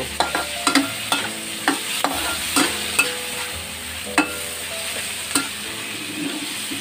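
Tomato cooking in a sizzling pan for pinakbet, a continuous frying hiss punctuated by regular clacks and scrapes of a spoon stirring against the pan.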